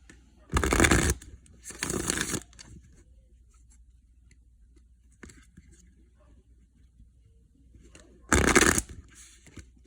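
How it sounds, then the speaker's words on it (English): Three loud bursts of cards being riffle-shuffled up close, two in quick succession and one after a pause, with quiet ticks between. "And I'm going to shuffle a little bit, and here we go."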